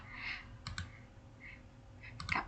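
A computer mouse clicks the print button in billing software, a few short sharp clicks in quick pairs, close and moderately loud over a quiet room background.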